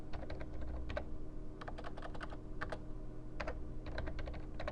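Typing on a computer keyboard, with quick irregular bursts of soft, close key clicks and brief pauses between them over a quiet, faint background hum.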